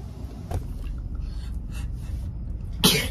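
One sharp sneeze bursts out near the end after a quiet stretch of faint background noise, with a softer breathy sound early on, at a festival RV campsite.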